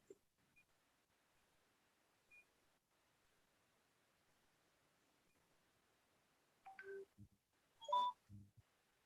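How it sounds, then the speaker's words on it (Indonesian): A short notification chime from an active phone, a WhatsApp alert picked up through a Zoom call, sounding as a brief pair of tonal beeps near the end after a long quiet stretch. "saudara tuh HP-nya aktif ya, WA-nya teneng gitu ya. Kedengaran di Zoom."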